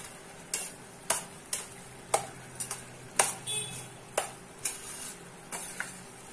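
A spoon stirs jaggery into a tamarind mixture for puli milagai, each stroke knocking sharply against the pot in a loose, regular rhythm of about a dozen close clicks over a soft background, with no voices.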